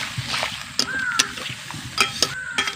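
A spoon scrapes and stirs snakehead fish kalia with potatoes and a little water in a pan. The stirring gives soft sloshing and sizzling, broken by a few sharp clinks of utensil against metal, close and fairly loud.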